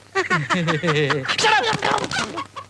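A chicken clucks loudly and close, with voices talking over and around it.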